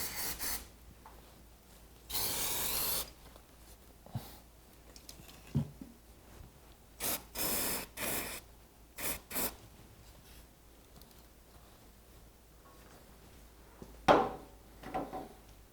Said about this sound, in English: Use the rag and some brake cleaner to remove any dirt near the plug or oil filter.